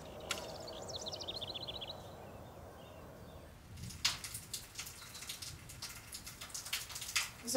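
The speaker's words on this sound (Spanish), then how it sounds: "No se puede hacer nada cuando llueve." Rain falls as a soft, steady patter with scattered louder drips and splashes, joined midway by heavier irregular drops on a surface, with a few bird-like chirps early on.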